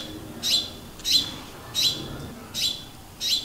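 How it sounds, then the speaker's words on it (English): A hungry baby sparrow calling, five sharp chirps repeated at a steady, roughly regular pace, loud and close over quiet background. "It was a baby sparrow who was hungry and desperately calling her mom."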